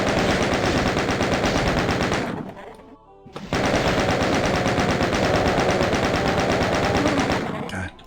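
Rapid continuous gunfire from a weapon in the original Doom video game, a loud dense rattling burst lasting about two seconds, then a brief near-silent gap before another long sustained burst.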